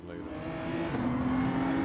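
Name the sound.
race car engine in video game Gran Turismo 7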